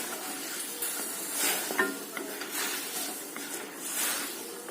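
Water hisses and steams in a hot wok of grated coconut and jaggery for Assamese gur narikol laru, a soft, faint rushing sizzle that swells and fades in uneven waves.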